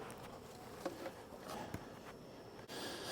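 Honeybees buzz softly around a neglected hive at the end of the honey flow, a faint, steady insect hum with a few brief taps and rustles.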